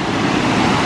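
Waterfall at Yaropolets near Moscow, a loud, steady broadband rush of falling water filling the whole moment with no voices.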